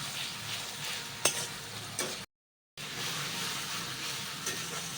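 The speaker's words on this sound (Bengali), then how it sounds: "এই যে বন্ধুরা মাছের ঝোল আর ভাত রান্না হচ্ছে" Fish curry cooks in oil in a kadai, giving a steady close sizzling hiss with a couple of sharp clicks, broken by a brief total silence midway before the frying noise resumes.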